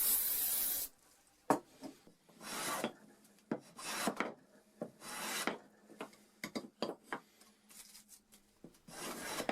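A wooden mallet joint is trimmed by hand, with irregular bursts of rasping and rubbing strokes against the wood separated by short pauses, close and fairly quiet.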